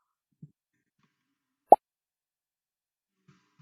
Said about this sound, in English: when the apple touches the bowl, it makes pop sound and the score is going up